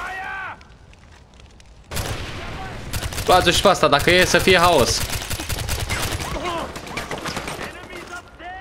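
Gunfire and explosions ring out in the video game Far Cry 4: loud, dense bursts of shots and booms dominate from about two seconds on, with someone talking over the battle.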